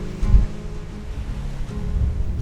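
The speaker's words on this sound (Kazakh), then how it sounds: "Толқынның жағаны сабалап соққан дыбысы" Ocean waves beat on the shore of Jeju Island, South Korea, a steady low rumbling wash with a stronger surge near the start, mixed with light wind and no voices.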